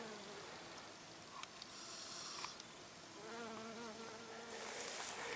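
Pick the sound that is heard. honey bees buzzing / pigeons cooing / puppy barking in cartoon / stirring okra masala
honey bees buzzing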